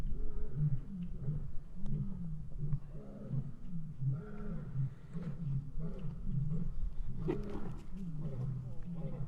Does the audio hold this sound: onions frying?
no